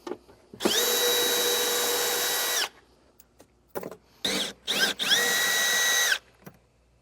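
A power drill fitted with an 8mm socket runs in two sustained whines while backing out a vehicle threshold bolt, separated by short bursts and clicks, close and loud with no talking.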